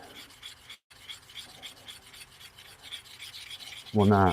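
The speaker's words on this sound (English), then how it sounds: "it's inconsistent when I pull my chisels on it" A chisel is pulled across a sharpening stone with an uneven, porous surface, giving a soft continuous rasping rub with brief pauses, close by. A short spoken phrase comes at the end.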